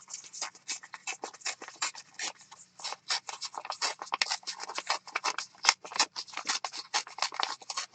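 Paper torn by hand for a colorful steampunk junk journal, with a rapid series of close, dry ripping and tearing bursts in uneven rhythm and no talk.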